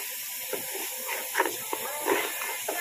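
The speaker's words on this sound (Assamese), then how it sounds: "এয়া ভাজি লৈছোঁ" Rice and onions frying together in a pan: a continuous hissing sizzle with occasional stirring bumps, close and moderately loud.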